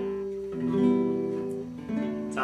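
Acoustic guitar open strings ringing out one after another after tuning, moving from the low sixth string up to the high first string, each note sustained and overlapping, heard close and alone.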